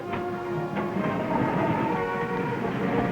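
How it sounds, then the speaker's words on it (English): Freight train hauling truck trailers on railroad flat cars, rumbling steadily close by with a continuous rolling roar and faint clicking of wheels over rail joints, no voices. "moving truck trailers on railroad flat cars between terminals"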